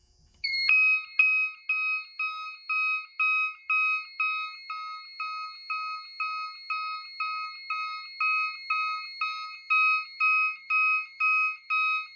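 Notifier fire alarm sounding after a CPX551 detector is triggered on an AFP-100 panel: a loud, steady series of repeated electronic tonal blasts in a regular rhythm, alone with no talk.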